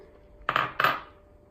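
Two quick rattling shakes of a container holding a marinade mix with fresh cilantro, close and crisp, each a short burst with a brief gap between them.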